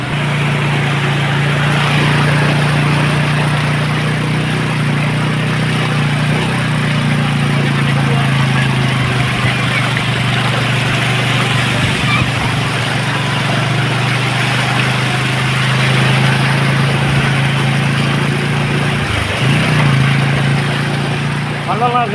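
Vehicle engine idling and running steadily on a flooded stretch of the Puducherry–Cuddalore road, a continuous low hum throughout with people talking nearby over it.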